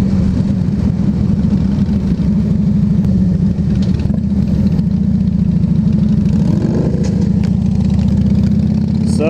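A car engine runs loud and close, droning steadily with rises in revs as a driver misses a gear shift.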